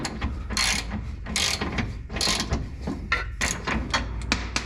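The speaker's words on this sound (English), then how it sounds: "I can just rotate this one and only take this bolt off." Ratchet wrench clicking rapidly in bursts while a bolt is loosened on a Spec Miata race exhaust, loud and close, with short pauses between strokes.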